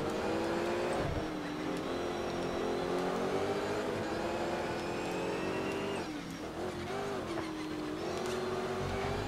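A Porsche race car's engine roars steadily in the racing game Shift 2 Unleashed, a loud continuous drone whose pitch dips and climbs with gear changes and corners, with no speech over it.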